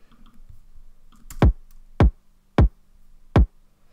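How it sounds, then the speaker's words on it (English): Four punchy kick drum hits from a sample pack play alone in a hip-hop beat, each a loud, sharp thump with a fast falling pitch, spaced roughly evenly apart with no other instruments. "So first I have a kick."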